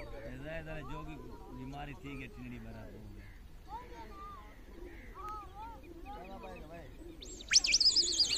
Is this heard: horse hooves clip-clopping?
no